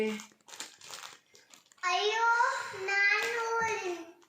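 Tightly packed courier parcel holding a maternity dress being torn open, loud close crinkling and crumpling of plastic wrap following a voice speaking.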